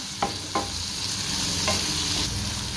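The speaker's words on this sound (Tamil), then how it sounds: "ஸ்டவ்வை நல்லா லோ ஃப்ளேமில் வச்சு தக்காளி நல்லா வதக்கி விட்டுப்போம்." Steady sizzling of tomatoes sautéing over a low flame in a pan for tomato rasam, with a few soft clicks of stirring against the metal, continuous and close.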